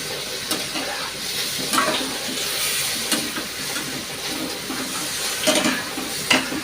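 Spice paste dropped into hot oil sizzles and crackles steadily, with a spoon scraping and stirring the pan in irregular strokes, close and fairly loud, without talk.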